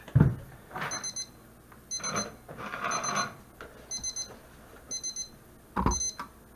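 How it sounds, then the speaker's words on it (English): A kitchen timer beeps in repeated short bursts while whole wheat bread cools from a cast iron pan, the beeps fairly faint over low kitchen background noise. "And the timer too."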